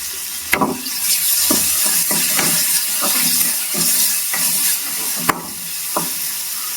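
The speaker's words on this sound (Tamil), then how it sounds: "இப்போ தக்காளி சேர்த்துக்கலாம் எல்லாத்தையும் நல்லா வதக்கி விட்டுப்போம்" Tomato sautéing in a pan for agathi keerai sambar, a steady sizzle broken by scraping stirs and a few sharp clinks of a spoon against the pan.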